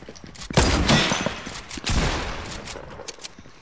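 A burst of gunfire in a video game, two or three close, loud blasts with rattling, rolling tails, and no voices over them.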